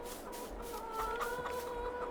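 Chickens cluck steadily in a Farming Simulator 22 farmyard, with a rooster-like call rising over a continuous low background hum, moderately quiet.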